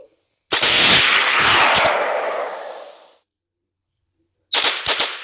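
Gunfire in the zombie mode of the video game Special Forces Group 2: a loud sustained burst of shots lasting a few seconds, then silence and a short second volley.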